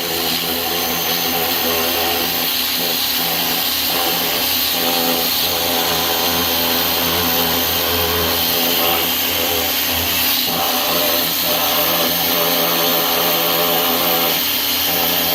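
A pressure washer fitted with a turbo tip blasts dirty carpet cleaning brushes, giving a loud, constant roaring hiss that runs without a break for the whole stretch and drowns out everything else.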